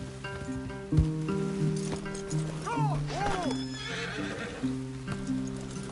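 Horses in the Red Dead Redemption 2 video game whinny twice in rising-falling neighs over soft clip-clop hoofbeats and rustling, with a low game soundtrack drone underneath, moderately close.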